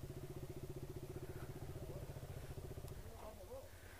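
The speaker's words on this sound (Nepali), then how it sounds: "त्यसको बाइक स्टार्ट भएन त्यसो" A motorcycle engine chugs and clatters in fast rhythmic pulses for about three seconds without catching, then dies away into quieter background noise on a mountain road near Kathmandu.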